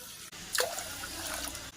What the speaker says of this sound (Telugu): గ్లాసుకు 2 గ్లాసులు నీళ్లు వేసుకుందాం